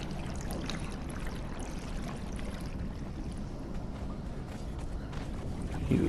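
Water flowing in the Conan Exiles video game after a dungeon mechanism is activated, a continuous rushing, trickling stream that holds steady and fairly loud for the whole stretch.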